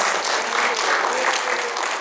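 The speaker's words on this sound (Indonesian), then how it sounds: "Teman-teman, tepuk tangan dong." Steady applause from a talk-show audience at a company work meeting, a dense, even clatter of many hands filling the whole stretch without letting up, with a faint voice underneath.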